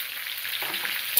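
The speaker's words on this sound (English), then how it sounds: "I'm frying up these last few pieces on between medium and low flame" Chicken pieces frying in oil in a pan on a stovetop over a medium-low flame give a steady, close hiss of sizzling with faint crackle and no talk.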